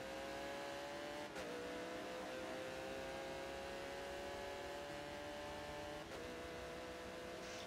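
Race cars in a GT racing video game at Road America, one running an ultra-low downforce setup, drone steadily at high revs, a continuous engine whine with faint gear shifts and a brief tire squeal, loud and without talk.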